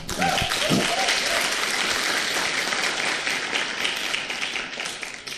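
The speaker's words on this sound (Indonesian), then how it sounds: "Tepuk tangan dong buat Anda." A seminar audience claps in a lively, continuous burst lasting over five seconds, with a brief voice at the start, then the applause fades slightly toward the end.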